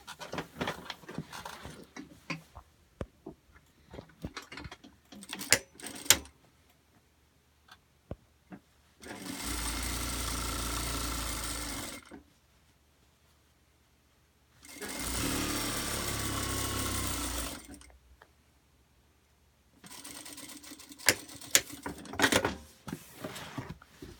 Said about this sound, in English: we're going to edge stitch across the bottom of it, right on that seam that we just sewed